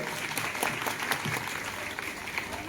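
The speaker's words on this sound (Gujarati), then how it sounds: "તાળીઓ પાડજો એમની માટે" Audience clapping at a school enrollment festival, a moderately loud, steady patter of many hands with a few sharper individual claps standing out.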